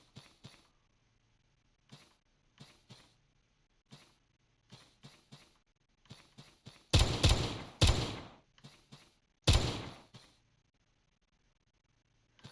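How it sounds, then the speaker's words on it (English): An AK-47 fires in the retro horror shooter Vomitoreum, moving from scattered single pops to two loud, sustained bursts of automatic fire, all fairly faint overall with quiet gaps in between. "I am lighting up the darkness with my AK-47 here"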